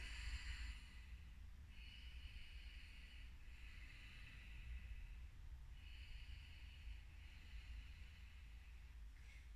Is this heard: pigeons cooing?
no